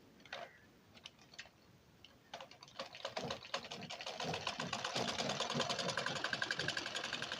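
A sewing machine runs a straight seam along a two-inch blouse strip. A few isolated ticks come first, then the needle picks up into a fast, steady, close clatter that grows louder and continues to the end.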